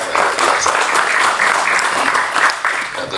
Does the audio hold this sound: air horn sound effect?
no